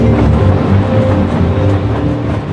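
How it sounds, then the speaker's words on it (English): A high-speed train at Reading station gives a loud, steady low rumble with a mechanical hum, close by and continuous throughout. "The high-speed train makes its final stop on its journey to Paddington at Reading"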